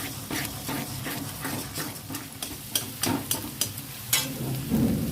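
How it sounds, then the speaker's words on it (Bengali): Four beaten eggs fry in a hot pan with a dense, steady crackle and sizzle, with sharper pops and spatters near the end, close up with no voices. "এবার আমি এটাকে ভালো করে ভেজে নেব।"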